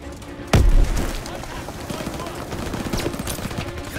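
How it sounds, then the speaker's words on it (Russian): A grenade explodes in the Call of Duty: WWII video game, one sharp, loud, close blast that rolls off into a decaying rumble and scattered debris over a few seconds, with a voice shouting just before. "Кидаю гранату!"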